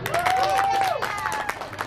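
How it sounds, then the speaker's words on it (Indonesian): Audience applause for a speaker at a gathering about fishermen in Belawan: a dense patter of clapping that runs steadily throughout, mixed with a raised voice near the start. "Tepuk tangan untuk Nila."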